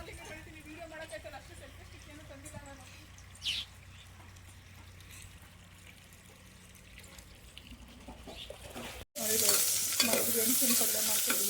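Oil sizzles loudly as potato and beans are stir-fried in a tempering for a sweet potato palya, the crackling hiss starting abruptly after quieter kitchen sounds and soft talk.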